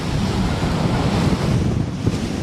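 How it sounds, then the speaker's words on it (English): Strong wind buffets the microphone while riding an electric unicycle, a Gotway MSX 100V, outdoors along a single-lane road, making a loud, continuous rumbling roar with no speech. "And it's windy."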